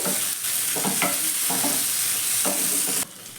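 Tomato fries in a pan under a constant loud sizzle, while a spatula stirs it in several distinct scraping strokes before the hiss abruptly drops near the end.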